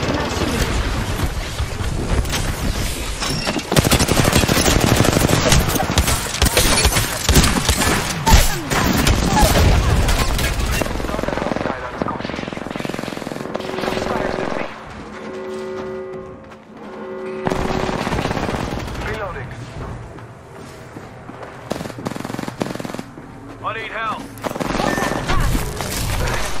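Gunfire in the battle royale video game Apex Legends: dense bursts of automatic weapon fire and booms for about fifteen seconds, then sparser shots and in-game mechanical and ability sounds.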